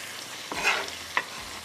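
Chicken with onions and tomatoes frying on a high flame for qeema gobi, a short burst of hissing sizzle broken by two quick spoon scrapes against the pan.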